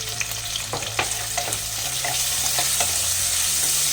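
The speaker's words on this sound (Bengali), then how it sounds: "দিয়ে এটা আমি 1 মিনিটের মতো নাড়াচাড়া করে নেব।" Ground cumin, coriander and turmeric powder stirred in a hot oiled pan for a Bengali cottage cheese curry, a steady close sizzle under repeated scraping strokes of a spoon, with no voices.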